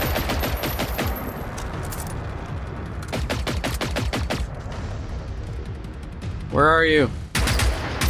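Automatic rifle in the video game Generation Zero emptying its magazine in long, loud rapid bursts, close and relentless, with a brief break and a voice speaking over the firing.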